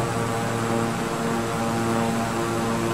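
Steady propeller-turbine drone of a Beechcraft King Air 350i in Microsoft Flight Simulator with throttle pulled back, a continuous even hum lasting the whole stretch with no talk.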